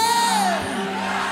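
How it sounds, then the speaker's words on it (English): A church congregation at a prophetic service raises a loud, sustained shout and whoop, many voices swelling together with a rising cry over dense crowd noise. "Come on and shout"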